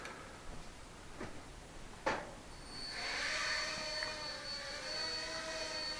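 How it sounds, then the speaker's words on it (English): A Heli-Max 1SQ V-Cam camera quadcopter spooling up after a couple of sharp clicks, then holding a steady high-pitched motor whine at heavy throttle, faint and fairly close. "this is the flight review of the 1SQ VCam from Heli-Max"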